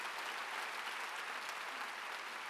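Sustained applause from a large church audience at a revival meeting in a gymnastics arena, a steady dense wash of clapping heard alone at a moderate distance.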